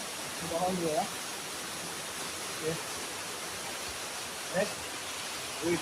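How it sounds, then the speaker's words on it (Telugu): Water flowing through the Garden of Caves at Cherrapunji, Meghalaya, gives a soft, steady rushing hiss. It is faint and continuous, with brief distant voices breaking through now and then. "మంచి వాటర్ ఫ్లో"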